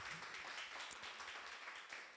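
Church congregation applauding newly registered members, a steady, dense wash of clapping from many hands throughout, moderately distant and fairly even in level.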